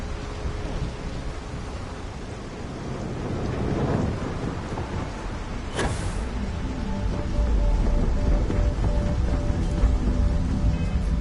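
Heavy rain pours steadily in a lightning-powered city in the game Starfield, with a sharp thunder crack near the middle and a deep rumbling roll beneath the downpour throughout.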